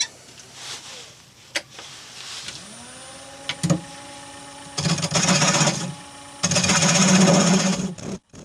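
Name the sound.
bowl gouge turning yew wood on lathe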